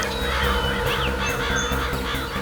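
Cartoon crows cawing over water, several harsh calls overlapping against a loud continuous background.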